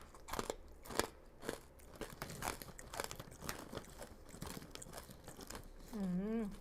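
Crispy pork rinds are crunched and chewed up close, a rapid series of brittle crackling bites, followed at the end by a short voiced hum or vocal sound.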